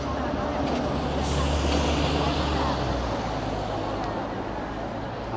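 Cars, including Western, Japanese, Korean and German makes, passing on a Shanghai street near East Nanjing Road: a continuous loud traffic rumble with low engine drone throughout, under a speaking voice.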